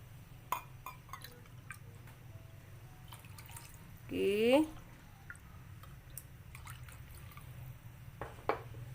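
Water is poured into rice in a clay pot for mutton rice, a brief gurgling splash of about half a second amid faint kitchen clicks and a low background hum, with someone speaking briefly.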